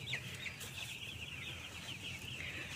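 Broiler chicks weighing about 97 grams, kept in a poultry house, peep and cluck continuously as a steady high-pitched flock chorus over low background rumble.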